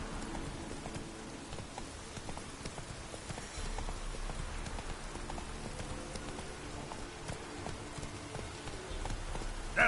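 Hooves of Roach, a horse in The Witcher 3, clip-clop at a steady galloping rhythm over a constant wash of rain, loud and close throughout.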